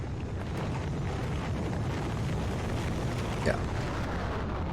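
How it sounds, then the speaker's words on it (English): Constant loud rumbling roar of rockets launching in Factorio, a dense steady wash of noise with a brief faint voice. "So that is a great amount of rockets being launched now."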